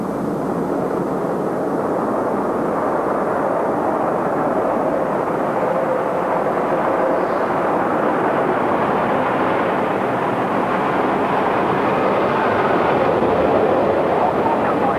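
Airplane in flight heard from inside the cockpit, a loud, dense, unbroken roar of engine and airflow that holds steady throughout, with no clear voice over it.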